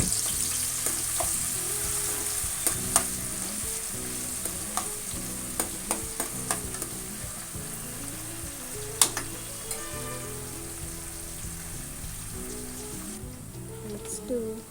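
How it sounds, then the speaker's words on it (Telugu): Fish curry ingredients lightly frying in a pan, a steady sizzle broken by frequent stirring clinks and scrapes of a spoon, close and fairly loud, with someone speaking briefly over it. "లైట్గా ఫ్రై చేసుకోవాలి."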